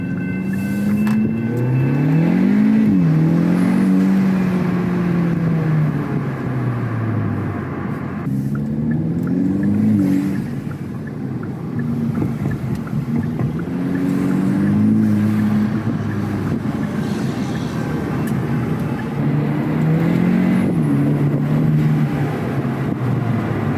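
A car engine with a homemade air box revs repeatedly through its air intake, rising and falling in several loud sweeps with a deep throaty roar close by.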